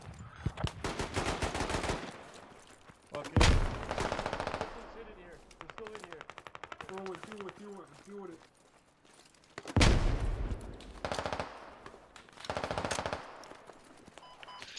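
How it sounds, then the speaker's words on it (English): Machine gun fire in a large-scale military simulation shooter, with repeated bursts of rapid shots of varying loudness, some near and some more distant, and voices talking over parts of it. "Seems like that machine gun."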